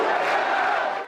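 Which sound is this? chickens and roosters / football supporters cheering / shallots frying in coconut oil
football supporters cheering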